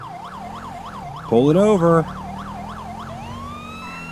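Police car siren from the LSPDFR mod of GTA V wails in a steady rising-and-falling cycle, broken midway by a louder burst of shifting yelp tones, with someone shouting over it and engine hum beneath.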